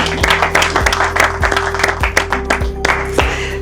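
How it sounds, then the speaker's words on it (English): An audience at a business talk claps in a loose, uneven patter with sharp individual hand strikes, over a steady low hum from the room's sound system. "David, clap for them"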